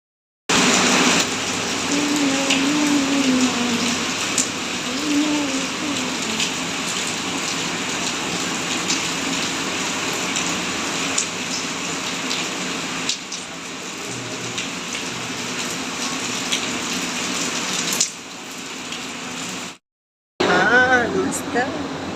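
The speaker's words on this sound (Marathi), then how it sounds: "पाऊस येतोय बढिया" Rain falls steadily outdoors as an even, close hiss of drops that runs almost without a break, cutting out for a moment near the end before resuming.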